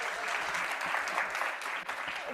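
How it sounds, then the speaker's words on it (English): Audience applause at a New York tech week fintech panel event, a steady dense wash of clapping from a crowd filling the whole stretch without a break. "if everyone give a round of applause"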